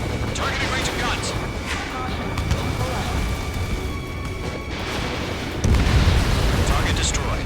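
A missile strike destroying a target in the video game Ace Combat 7, heard as a sudden loud low boom near the end over continuous jet and engine rumble, with radio-style voices talking throughout.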